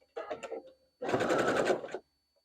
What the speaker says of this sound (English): I'm going to continue to sew them the first way